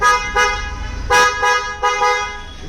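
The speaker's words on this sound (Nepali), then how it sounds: "यसमा हामीले पम्पवाला हर्न हानेको छौँ हर्नको आवाज बाहिरबाट सुनाइदियो भाइ" A loud pump-type air horn on a Suzuki Swift blasts several times in short honks of uneven length, harsh and close.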